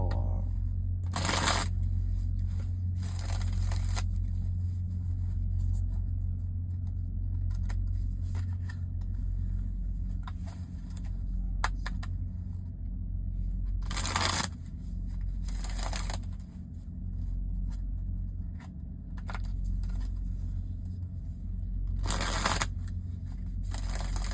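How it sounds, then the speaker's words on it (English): Several short bursts of cards being shuffled, spaced apart over a steady low hum, with quiet stretches between them. "I'm gonna shuffle these cards right quick"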